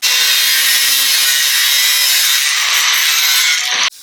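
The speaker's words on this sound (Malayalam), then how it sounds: "ഇഞ്ച് നീളത്തിൽ നമ്മളൊരു നാല് പീസ് കൂടി നമ്മൾ ഇതിൽ മുറിച്ചെടുക്കുന്നുണ്ട്" A one-inch square metal pipe being cut into pieces gives a loud, continuous, harsh grinding rasp that runs for nearly four seconds and then stops abruptly, with no voices.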